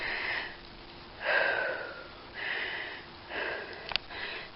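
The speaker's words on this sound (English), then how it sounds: "You can hear how out of breath I am." Heavy breathing from someone out of breath on a walk, with several slow, drawn-out breaths, each rising and fading, faint and close with quiet gaps between them.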